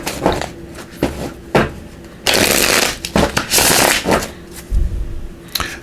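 A deck of tarot cards shuffled nearby in several bursts of rapid riffling and flicking, separated by short pauses and soft handling taps.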